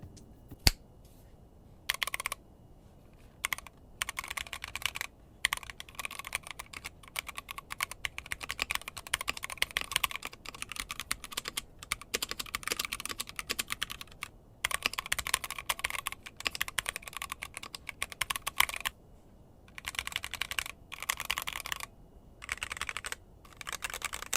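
Rapid clacky typing on a Womier K87 acrylic tenkeyless mechanical keyboard with unlubed switches, close and crisp, runs in bursts with short pauses between strings of keystrokes.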